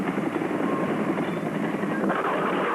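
Helicopters lift off from the US embassy, a steady, loud rotor and engine roar filling the whole stretch without a break, close and continuous.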